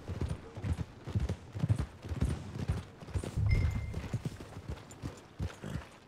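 Steady clip-clop of horse hooves at a walking pace in the video game Red Dead Redemption 2, fairly close, with a soft low rumble underneath and no talking.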